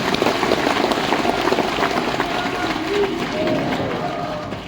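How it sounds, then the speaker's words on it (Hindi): Steady crowd applause at a Hindu religious katha gathering in a tent pavilion, a dense sustained patter of many hands clapping together that holds evenly for several seconds before easing slightly. "अच्छी ताली बजाओ, अच्छी।"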